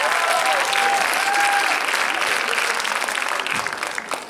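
Sustained audience applause at a vegan congress stand-up comedy show, a dense, loud wash of clapping from a crowd that holds steady and then begins to fade near the end.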